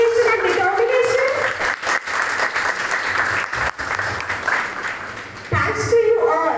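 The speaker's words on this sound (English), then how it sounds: "may we please have a huge round of applause for their dedication and determination" Students and staff clap at a school assembly for National Sports Day, a loud, steady round of applause that dips briefly midway, with voices talking over it at the beginning and end.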